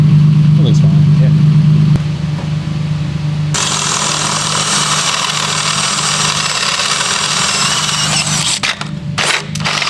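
Toyota Mark II JZX100 with a swapped 2JZ-GTE engine and factory TRD exhaust running, a low droning idle that shifts to a louder, rougher exhaust roar midway, with people talking nearby.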